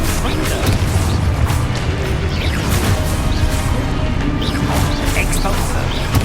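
Spell blasts and crashing impacts from Confringo fire in the Hogwarts Legacy video game, a dense, continuous stream of booms, whooshes and clanking hits layered over game music for the full stretch.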